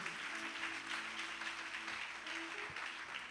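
A church congregation applauding and cheering in praise during a French-language prophetic service, a steady dense wash of clapping with music or voices humming underneath.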